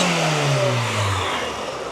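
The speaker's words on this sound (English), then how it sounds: "the car is running good right now" A 1992 Honda Civic VX engine on a regular distributor, not yet tuned, revs up and then settles, its mid-pitched note falling steadily over two seconds, close and fairly loud with no talk.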